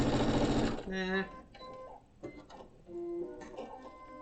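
A sewing machine top stitches the edge of a small fabric bag, its needle running in a fast whirring burst, then in shorter stop-start runs, close and clear. Someone talks over the stitching.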